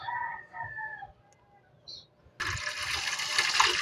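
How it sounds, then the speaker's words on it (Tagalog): Water being poured into an aquarium container: after a few quiet clinks and faint voice sounds, a loud, steady gushing splash starts abruptly and continues to the end. "Ayan, lalagyan na natin ng tubig."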